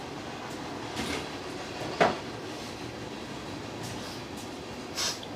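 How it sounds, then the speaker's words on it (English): A train passing nearby, a steady rumbling roll with a few sharp clanks and a brief horn-like blip near the end, heard alone without talk. "More train!"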